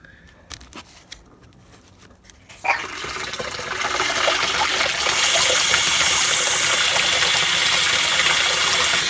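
A loft cold water storage tank refills through a newly replaced float valve; after a quiet start with faint clicks, water suddenly gushes in loudly and keeps rushing steadily, growing slightly fuller.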